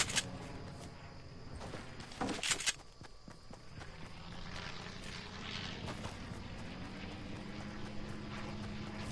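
Fixed-wing aircraft passing overhead in the video game Fortnite, a faint steady propeller drone with footsteps and a brief louder clatter early on.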